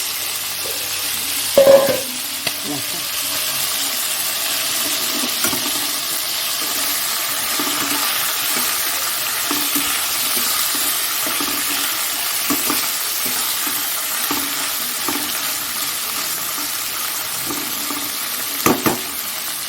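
Crab curry fries and sizzles in a pan while being stirred, a continuous close sizzle broken by scraping stirs and a few louder clanks, with no speech.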